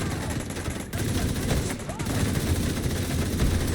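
Rapid automatic gunfire from the video game The Division 2 (TCD2), a dense, continuous burst of shots mixed with game effects and occasional voice.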